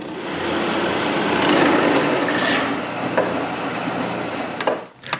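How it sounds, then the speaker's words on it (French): A drill bores a hole the same size as the dowels through a wood scrap, a steady, loud grinding whir running for about five seconds before stopping. "Je commence donc par percer un trou de la même grosseur que les goujons dans une de mes chutes."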